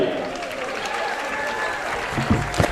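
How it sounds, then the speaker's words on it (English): Crowd applause for a middle and high school pep band inside a gym during a high school basketball game, a steady broadband wash of clapping heard from a distance, with crowd noise and a couple of louder thumps near the end. "A round of applause for the Darlington Middle School and High School band."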